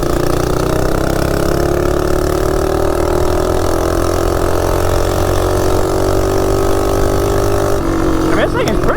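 A Baja Warrior minibike with a billet Predator engine runs steadily at a loud, droning idle-to-mid throttle, the engine tone rising slightly over time, with a brief change in pitch near the end.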